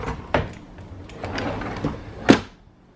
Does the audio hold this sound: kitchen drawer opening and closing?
yes